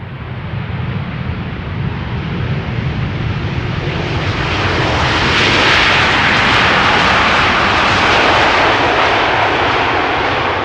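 A KLM Boeing 787-10 Dreamliner lands at Schiphol Airport, its engines roaring loud and steady from start to finish, the broadband rush swelling midway as it passes close.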